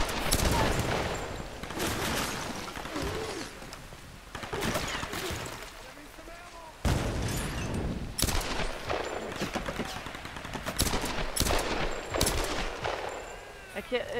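Repeated bursts of weapon gunfire in the Tomb Raider video game, loud and close, coming in clusters of rapid shots with short pauses between them.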